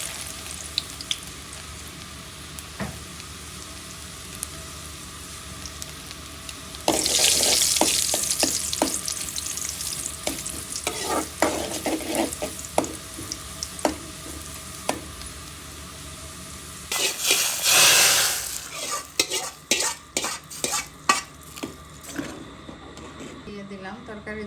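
Chopped garlic and dried loitta fish fry in oil and are stirred, a loud bright sizzle bursting up midway, then fading with scraping stirs and clattering, while a voice talks intermittently over the cooking.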